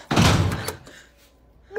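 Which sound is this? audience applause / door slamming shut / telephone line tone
door slamming shut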